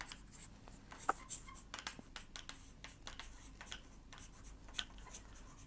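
Chalk writing a division formula on a classroom blackboard: quiet, intermittent taps and short scratchy strokes in an irregular rhythm, close by, with no talking.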